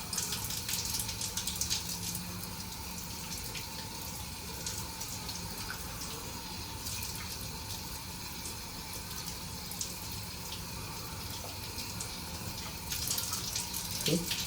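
Fresh coriander leaves rinsed under a running kitchen tap, with a steady, close hiss of flowing water lasting throughout and a slight swell near the end.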